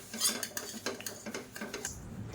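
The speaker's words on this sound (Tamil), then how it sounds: "இப்போ இதை மேஷர் வச்சு எல்லாத்தையும் நல்லா மசிச்சு விட்டுக்கலாம்." A masher works through cooked mango and dal in a metal pot, making a quick run of close, sharp clinks and soft squelching knocks that ends after a couple of seconds.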